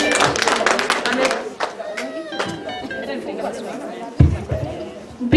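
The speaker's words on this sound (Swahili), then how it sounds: "Mpigieni Naomi makofi." Clapping and applause from a crowd at a graduation celebration honouring Naomi, a scattered patter of claps mixed with lively chatter and voices close by.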